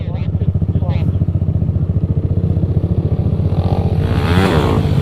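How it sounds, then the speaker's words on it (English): A supermoto motorcycle lands a jump in a parking lot, its engine droning loud and close, then rising in a throttle rev at the end. "he landed and hit the throttle"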